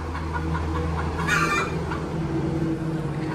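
Desi hens and roosters on a poultry farm, a close flock clucking continuously with one brief louder squawk or crow in the middle, over a low steady background hum.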